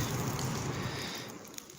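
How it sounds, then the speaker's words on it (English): A large propane tank venting through its pressure relief valve as a wildfire burns up to it near Pine Ridge, Fresno County, California, giving a steady broadband hiss that fades slightly toward the end. "is a huge propane tank releasing the pressure."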